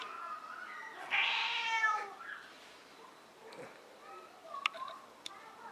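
A pet cat meows in a drawn-out, wavering call, close and clear, followed by a few faint clicks and rustles in a quiet room.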